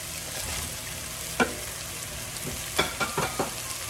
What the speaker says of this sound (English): Let's add in all the fried eggplant. The fried tofu.